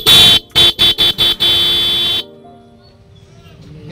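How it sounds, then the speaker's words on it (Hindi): A black Bajaj Pulsar motorcycle horn blasts loud and close: one long honk, four short rapid toots, then a sustained blare that cuts off, leaving a faint background hum. "अब पहले पल्सर की आवाज़ सुनते हैं, पल्सर के हॉर्न वाले काले वाले।"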